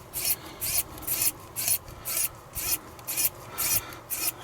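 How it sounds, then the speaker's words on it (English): A cheap electrical screwdriver with a worn tip turns out screws on an Xbox One X, making short rasping, grinding bursts about twice a second, close and fairly quiet, with no talking. "The screwdriver is really knackering up now."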